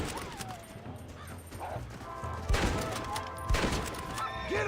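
Gunfire in Red Dead Redemption during a shootout: a few sharp shots crack out over a busy background, with two louder reports standing out near the end, fairly quiet overall.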